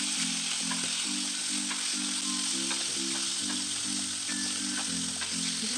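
Dried salted seer fish frying in very hot oil gives a loud, steady sizzle that runs through the whole stretch with no pauses, with background music playing over it.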